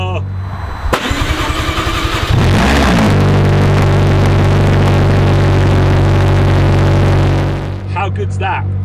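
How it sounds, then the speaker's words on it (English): Cold start of a Bloodhound LSR car engine on a 1-degree day: a loud crank catches and settles into a steady, rumbling idle that holds close and constant for several seconds, with a person talking briefly near the end. "But I thought I could do a cold start."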